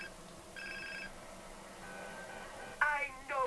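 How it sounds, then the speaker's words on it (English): In GTA San Andreas, an in-game phone rings in short tonal bursts, first one clear ring and then sharper repeated rings near the end, with faint game sounds beneath. "Okay, phone call."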